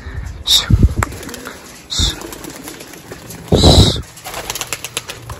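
Pigeons released into the air from a rooftop loft, with bursts of wing flapping and soft cooing close by, plus faint chirps and someone talking at moments.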